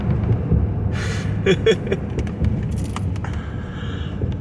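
Steady low engine rumble of a car on the move, with a few faint rattles and clicks inside the cabin.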